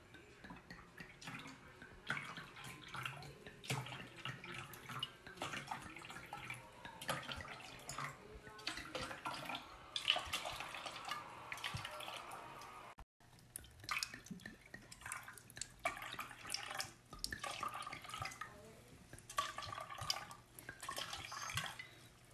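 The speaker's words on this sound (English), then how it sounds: "I throw away all of this acidic, toxic water away down the drain" Water being poured down a sink drain, a continuous splashing trickle with dripping and gurgling that runs fairly steady and close for over twenty seconds, broken by one brief gap midway.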